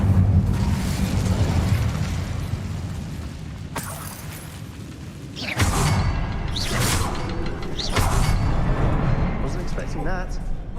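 Incendio fire spell cast in Hogwarts Legacy: several whooshing, booming fiery bursts, each swelling and fading over a second or so, over a constant bed of game noise.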